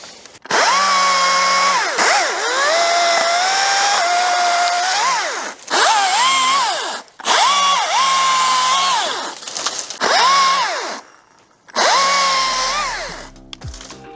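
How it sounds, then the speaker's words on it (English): Compact STIHL MSA 190T battery-powered top-handle chainsaw cutting during pruning, several whining bursts of motor revving up under load, each a few seconds long with short pauses between, loud and close. "The STIHL MSA 190T is a compact, battery-powered top-handled chainsaw designed for light and medium pruning tasks."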